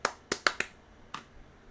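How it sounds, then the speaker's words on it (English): Five sharp claps or snaps ring out, four in quick uneven succession and one more after a short pause, close and crisp. "That's a loud enough clap."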